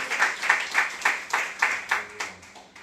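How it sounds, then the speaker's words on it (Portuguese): A church congregation claps together in a steady rhythm, about ten sharp, evenly spaced claps, fairly close and moderately loud, with no talking. "quer aplaudir, aplauda o Senhor."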